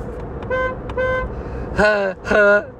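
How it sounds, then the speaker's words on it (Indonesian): A thin, weak horn on a small VinFast VF3 electric car toots several times, two short beeps followed by two longer honks, close by. "klaksonnya. Kurang berwibawa gitu."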